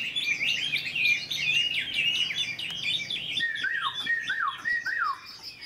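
A caged Chinese hwamei songbird, an older bird, sings a continuous run of bright, rapid whistled phrases and trills, close and loud, with the song shifting to lower slurred notes partway through and carrying on to the end.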